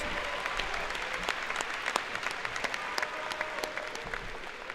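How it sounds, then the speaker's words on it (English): A graduation ceremony audience in Raytown applauds honored graduates with steady, dense clapping from a large crowd that holds an even level for the whole stretch, with no talk over it. "join me in applauding these individuals"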